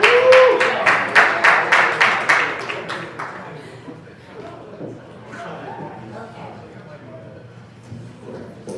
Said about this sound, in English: So we give Keisha a round of applause.